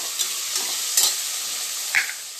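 Tomato, chilli, coriander and mint being sautéed in a pan for a soya chunk biryani, a steady soft sizzle broken by a few brief spoon scrapes and stirs, close and moderately loud with no talking.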